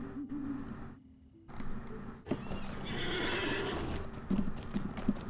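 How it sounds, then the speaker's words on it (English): A horse mounted in the online game Lord of the Rings Online gives a whinny, then clip-clopping hooves start up and continue steadily and close by after a short quiet gap. "Get on my horse."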